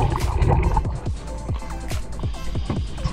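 A small outboard engine on a fishing boat sputters and chugs unevenly nearby, sounding abnormal after repair, with water sloshing and brief pitched mechanical whines rising and falling.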